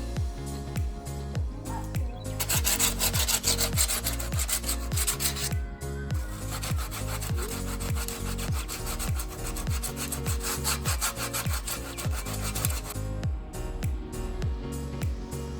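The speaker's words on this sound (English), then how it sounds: "we're gonna do a rough sand and smooth it out" Rough sanding of Bondo body filler on a pillar of a wrecked Toyota Tacoma TRD under repair, steady scraping strokes in a fast back-and-forth rhythm, close and continuous with brief pauses.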